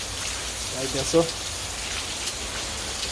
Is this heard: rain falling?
yes